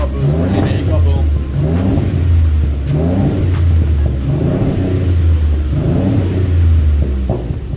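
Rough, uneven revving from a 2014 Honda Civic Si with a misfire and a broken downpipe, surging in repeated waves of several seconds each, loud and close, with people talking over it.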